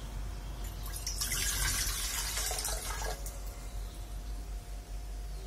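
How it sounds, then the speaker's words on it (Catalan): Water is poured from a container into a glass jar at the start of making handmade soap with lye, a splashing, trickling pour that swells and then stops, fairly faint and close. "tirem l'aigua."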